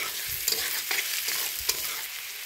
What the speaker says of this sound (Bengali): আবার একটু ভালো করে ভেজে নেব।